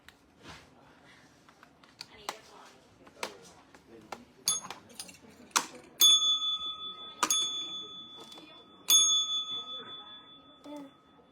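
A phone rings in a room, its electronic tone sounding in three loud repeated bursts over background voices and small clicks.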